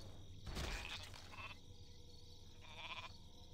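Sheep bleat in the Warcraft 3 video game, a few short bleats heard as close, clear game sound effects over a steady background.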